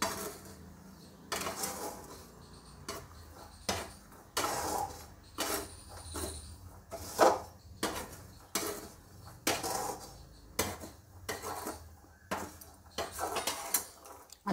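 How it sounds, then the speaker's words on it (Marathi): Salted peanuts being roasted and stirred in a pan make repeated scraping and clattering strokes of a spoon against metal. The strokes come in a steady, irregular rhythm at close range, with no talking. "छानपैकी असं खालीवर करून हलवायचं आहे त्याला."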